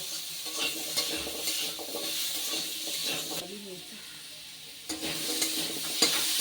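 Hog plum (amra) pieces with salt and turmeric stirred in hot oil, giving a steady sizzle broken by repeated scraping strokes of a spoon against the pan, close and quiet.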